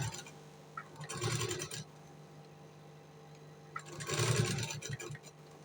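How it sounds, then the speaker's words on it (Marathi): A sewing machine stitches blouse fabric in two short bursts of rapid mechanical whirring, separated by a quiet pause with low background hum. "आपल्याला एक दाबाच्या अंतरावरती एक शिलाई अजून आणखी एक शिलाई मारून घ्यायची"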